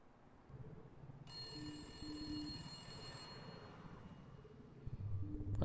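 A telephone rings inside the Califonium video game, a steady electronic trill with evenly spaced bursts over quiet ambient game sound, lasting several seconds before cutting off, with a rustle near the end.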